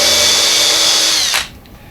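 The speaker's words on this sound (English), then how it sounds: "It's one of the things I don't like about this particular drill." A power drill drives deck screws during storage cabinet repairs, with a loud continuous whirring motor for over a second that cuts off abruptly, leaving only faint room noise.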